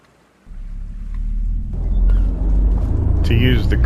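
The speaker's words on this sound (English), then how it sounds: "I think we have to have the engine running." A boat engine starts and settles into a steady low rumble in Farming Simulator 25, joined partway through by a brief higher mechanical whine near the end.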